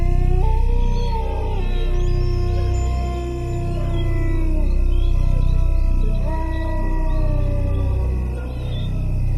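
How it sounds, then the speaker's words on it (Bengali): Jackals and dogs howl from far off in the night around a dense forest, long rising and falling wails layered over one another, steady and fairly loud, with no voices. "শিয়াল কুকুরের ডাক ভেসে আসছে"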